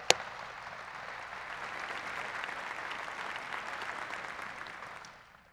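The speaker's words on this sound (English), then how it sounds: "If you just give them a round of applause" A press conference audience gives a round of applause for three standing people at a Baylor women's basketball coach introduction, sustained, moderately distant clapping that swells slightly and then fades out.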